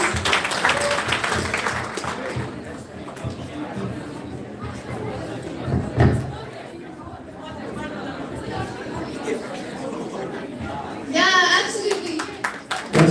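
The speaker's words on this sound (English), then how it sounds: "Give him a big round of applause, please." An audience at a two-day science workshop in Handwara, Kashmir, claps through a crowd's chatter and nearby talking voices, with a louder burst of applause near the end.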